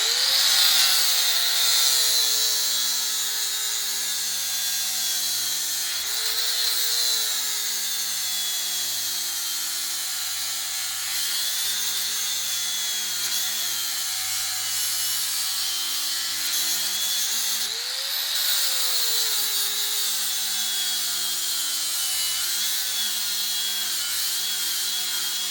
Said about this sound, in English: I'm just gonna grind this one off